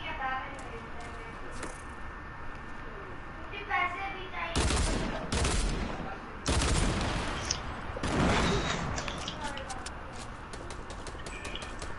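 Gunfire in Fortnite during a fight near a house: bursts of close, loud shooting arrive in several clusters over a steady background, with players talking throughout.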